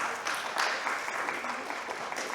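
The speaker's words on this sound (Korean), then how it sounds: "박수." A congregation claps together during a Korean church's Sunday worship service in Berlin, giving a dense, steady round of applause that fills the room for about two seconds without pause.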